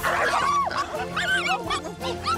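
A dog makes short yips and whimpering, whiny cries against a busy background of music and other sounds, with overlapping harmonic calls through the stretch.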